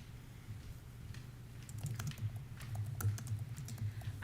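Quiet typing on a computer keyboard during a school board meeting, faint scattered clicks over a low room hum with no speech.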